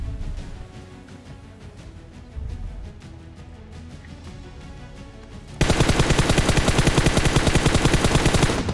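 Automatic gunfire in the mobile battle royale game PUBG Mobile: after a quieter stretch of distant shots, loud rapid bursts erupt and keep firing in a steady, unbroken stream close by.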